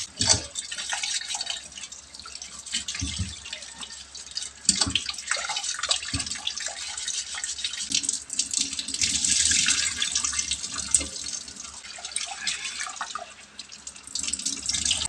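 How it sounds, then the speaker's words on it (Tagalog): Glutinous rice rinsed under a running tap, with a steady splash of water over the grains and irregular drips and swishes of washing. There is no talk. "Una nating gawin, hugasan lang natin yung malagkit"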